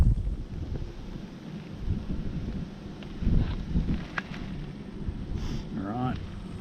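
Outdoor wind buffets the microphone during an oil change on a 2023 Honda CB125F motorcycle, low rumbling gusts that swell and fade irregularly, with some brief handling noises.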